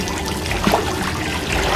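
Water trickles and bubbles steadily in a pool, a continuous close liquid dribble with small gurgles throughout.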